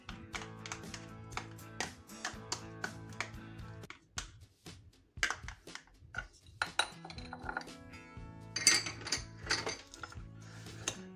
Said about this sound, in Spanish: Y ahora incorporamos nuestra mantequilla con el cacao.